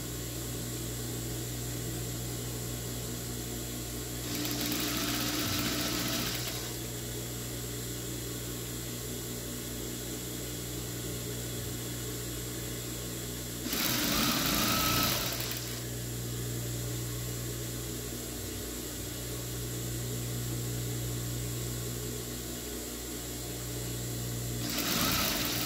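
Tricoline fabric is stitched onto a dish towel with a sewing machine, heard as three distinct bursts of rapid mechanical whirring that start and stop, close and fairly loud over a steady background hum.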